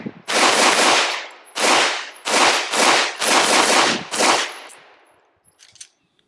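A Springfield Hellcat Pro pistol fitted with a Strike Industries compensator fires five loud, sharp shots at uneven intervals on a range, each with a ringing decay, followed by faint clinks as the shooting stops.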